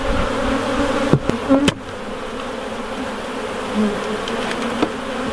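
A dense, steady buzzing of many honey bees around a hive fills the air, with a few sharp knocks and clicks near the start.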